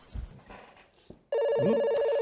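A telephone rings with a loud, rapid electronic trill that starts abruptly and continues steadily, close by, following a few soft handling noises.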